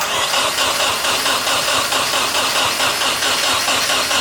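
A Toyota AE86 engine cranks without firing: a loud, continuous, rhythmic churning of the starter turning the motor over, pulsing evenly with no catch or change in pace.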